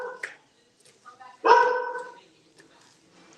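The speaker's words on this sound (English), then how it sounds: "Sorry, my dog's barking." A pet dog barks indoors during home cooking of soup, a couple of sharp barks with a louder one in the middle, short gaps of quiet between them.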